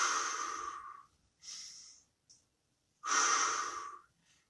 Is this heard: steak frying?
no